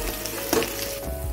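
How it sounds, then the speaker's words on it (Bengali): Potatoes seasoned with salt and turmeric frying in hot oil over a medium flame, giving a steady close sizzle with a brief stir-like crackle, and no voices. "নুন হলুদ দিয়ে আলুগুলো লাল লাল করে ভেজে নেব।"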